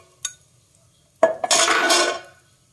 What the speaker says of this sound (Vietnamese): Cái tỏi này nó cũng vàng rồi, em sẽ múc lên để ra cái chén này.